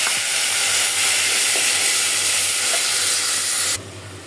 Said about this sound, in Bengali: এখন এটা কষাই নেব।